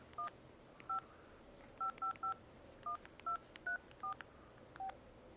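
Keypad tones from a Casio Brigade Verizon flip phone as a number is dialed, a dozen short clear beeps in an uneven rhythm with brief pauses between groups, close and alone.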